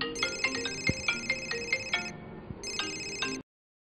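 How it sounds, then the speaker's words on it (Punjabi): A telephone rings with a repeating electronic ringtone in an indoor setting in a Punjabi drama, clear, loud and alone, in two bursts separated by a brief pause before it cuts off. "ਸਵੇਰੇ ਸਵੇਰੇ ਕਿਹਦਾ ਫੋਨ ਆ ਗਿਆ ਮਾਤਾ?"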